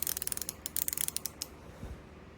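Screws being turned out of the tension unit of a Necchi BC sewing machine, a close series of quick dry metallic clicks and ticks, then a faint creak as the clicking stops.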